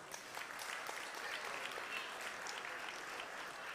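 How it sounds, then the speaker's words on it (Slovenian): Applause from the audience at a song festival final, with steady dense clapping throughout, faint and distant. "Čestitke vsem in en velik aplavz."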